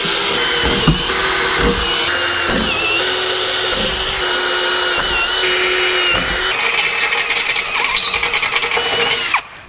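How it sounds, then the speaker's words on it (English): A battery-powered hand drill bores into a steel frame rail of an LR4 truck, running loud and steady close up with a grinding whine, brief pauses and pitch shifts as it bites through the metal. "I'm just using a battery-powered drill and not an old corded one"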